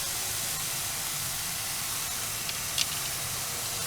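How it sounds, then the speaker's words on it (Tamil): Chicken mince and masala sautéing in oil in a pan, giving a steady, loud hiss and sizzle that carries on unbroken throughout, with a couple of faint clicks near the end. "கொஞ்சம் நேரம் வதங்கட்டும்"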